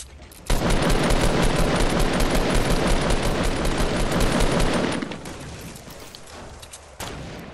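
Enemies open fire in a video game with a long, dense, rapid stream of loud gunfire that cuts off sharply, followed by a few scattered shots.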